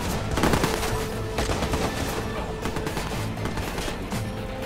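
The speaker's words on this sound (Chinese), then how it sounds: "要有人开枪了。" Gunfire in the video game Watch Dogs: rapid bursts of automatic shots mixed with game noise, a loud continuous barrage with crashing sounds underneath.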